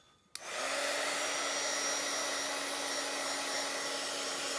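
Hair dryer switching on abruptly and blowing steadily to dry ink on a Bible journal page, a loud, close, continuous whine and rush of air with no talking.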